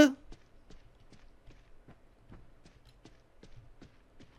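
Steady footsteps in the horror video game Evil Nun, set in a cemetery, tapping out an even rhythm about three per second, faint and fairly distant against a quiet background, with no talk.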